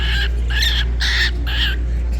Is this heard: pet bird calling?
yes